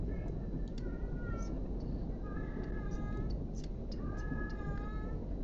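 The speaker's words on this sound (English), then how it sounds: "That's my cat, Napoleon, by the way." A cat meows repeatedly in drawn-out, rising and falling calls, fairly close, over a steady hiss of background noise.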